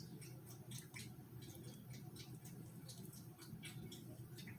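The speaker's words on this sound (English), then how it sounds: "Y'all hear her lapping?" A pet cat or dog laps at tuna fish juice in a home kitchen, making a faint, steady series of soft wet clicks, repeated rapidly across a quiet, low-level room hum.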